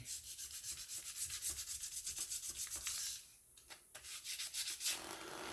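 Sandpaper rubs over curb rash on a vehicle wheel in quick, even back-and-forth strokes, close and steady, pausing briefly before resuming, with no talking.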